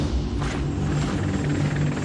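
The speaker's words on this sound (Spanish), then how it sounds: "Integran la dotación 3 pequeños helicópteros Huey y un Sea Stallion de grandes dimensiones." Military helicopters, small Huey machines and a large Sea Stallion, as a steady mid-distance rotor rumble and chop, continuous and moderately loud with no voices.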